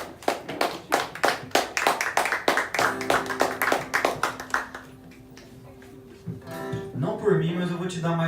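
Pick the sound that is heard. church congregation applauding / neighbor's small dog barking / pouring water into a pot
church congregation applauding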